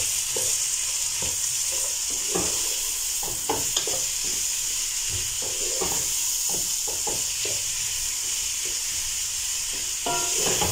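Vegetable rice is stirred in a hot frying pan: a constant sizzle with frequent scraping strokes of the spatula, close and fairly loud.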